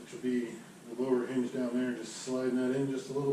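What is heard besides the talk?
No distinct noise like a dog, phone or traffic.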